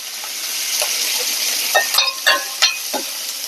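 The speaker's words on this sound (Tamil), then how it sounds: "ஜீரகம் போட்டு பொரியட்டும். இப்போ பொரியுது." Cumin seeds and curry leaves crackle and spit in hot oil, a steady bright sizzle broken by several sharp pops close by, with no talking.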